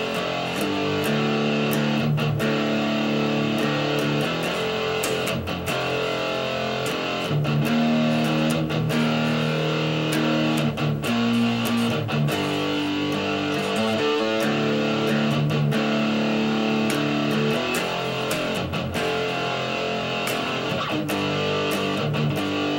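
An electric guitar with heavy distortion plays a riff, a loud, sustained, driving chord pattern with rhythmic palm-muted chugs, played alone for over twenty seconds.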